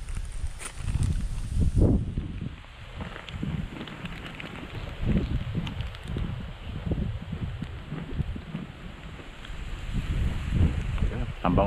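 Strong wind buffets the microphone beside a river, coming in uneven gusts of rough low roar, loudest at the start and near the end, with no clear talk.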